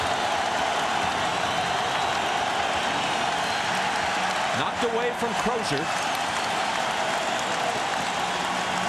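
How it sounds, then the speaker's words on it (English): Basketball crowd noise at the Staples Center during an NBA Finals game between the Lakers and Pacers, a loud, continuous arena roar throughout, with play-by-play commentary over it. "The crowd is in it."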